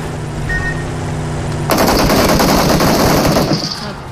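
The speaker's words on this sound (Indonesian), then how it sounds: "Betul-betul dia nembak tuh." Sustained automatic gunfire in a squad battle video game, loud and close, with a continuous rapid burst after a brief quieter stretch and faint voices beneath.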